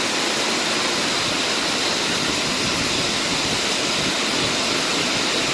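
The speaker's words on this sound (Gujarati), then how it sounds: "જોરદાર વરસાદ ચાલુ જ છે." Heavy monsoon rain pours down over a flooded garden as a dense, unbroken roar, loud and constant from start to finish with no pauses.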